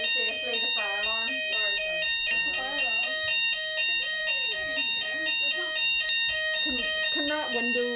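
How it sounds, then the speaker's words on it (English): A fire alarm going off in a hotel room beeps in a steady, repeating high-pitched pattern throughout, while people talk over it nearby. "I'm saying the alarm is going off right now."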